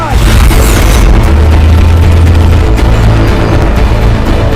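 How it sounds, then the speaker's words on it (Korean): A tank's shell detonates in its breech after an anti-tank grenade in a war film, a loud, deep boom that swells and rumbles heavily for several seconds. "이때 소련 병사 한 명이 대전차 수류탄을 적전차 포신에 던졌고, 약실에서 포탄이 터지며 적전차가 전투 불능이 됩니다"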